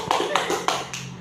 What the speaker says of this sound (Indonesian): Tepuk tangan, hei.